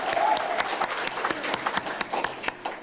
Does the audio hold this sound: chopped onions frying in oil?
no